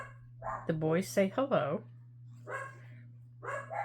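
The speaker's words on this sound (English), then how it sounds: "I have no idea what they're barking at." Dogs bark and yip indoors over a steady low electrical hum, a few short clustered yelps followed by softer scattered sounds, mixed with a person speaking.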